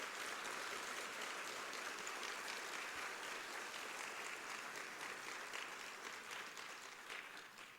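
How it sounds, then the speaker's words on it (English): An audience at an Ebola health forum in East Tennessee gives a round of applause for medical professionals, dense steady clapping from many hands heard at a distance, easing slightly toward the end with no voices. "I hope you will join me in giving them a round of applause for being so willing to do that."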